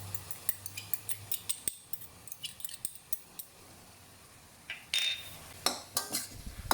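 A spatula clinks and scrapes against a pan as a fried egg dish is stir-fried with soy sauce, sugar and ketchup, giving quick irregular metallic taps and a brief sizzling burst.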